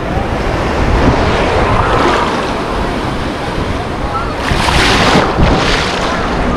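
Sea waves breaking at a beach in Anapa: a continuous roar of surf with wind buffeting the microphone and a louder wave surge near the end. A person talks over the water noise.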